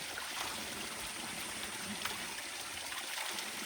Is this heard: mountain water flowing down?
yes